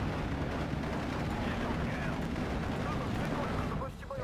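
Machine gun fire in the video game Steel Division 2, a dense continuous rattle of rapid shots with rumbling artillery-like booms mixed in, loud and sustained throughout.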